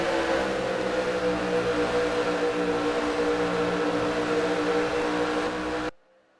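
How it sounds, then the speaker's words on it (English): Racing trucks roar around Ontario Superspeedway in the Pacific 200 in an EA Sports NASCAR game: a loud, steady engine drone with layered harmonics that cuts off abruptly near the end. "I'm definitely going to have to talk louder because the cars are very loud"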